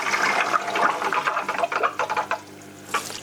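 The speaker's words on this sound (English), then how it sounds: "This is a waterfall type filter." Water running down a waterfall-type paint spray booth filter, a close, continuous splashing wash that fluctuates and thins out over a few seconds.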